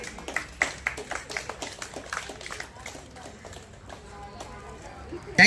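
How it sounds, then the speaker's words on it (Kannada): A small audience at a Sneha Ranga gathering in Bengaluru claps, the individual claps distinct and fairly brisk before thinning out and fading, with voices faintly mixed in toward the end. "ಒಂದು ದೊಡ್ಡ ಚಪ್ಪಾಳೆ ಬರಲಿ."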